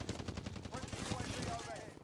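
Rapid bursts of automatic gunfire in the battle-royale video game Warzone crackle back to back for two seconds. The shots are loud and dense, with barely any pause between them.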